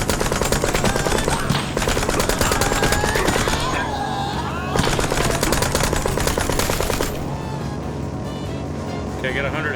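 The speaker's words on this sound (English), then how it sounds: "Just shut up and keep firing." Sustained rapid automatic gunfire from the video game Mouse: P.I. For Hire, loud and dense, with brief pauses and shifts in the firing across the stretch.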